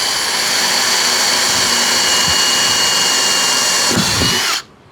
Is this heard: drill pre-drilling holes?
yes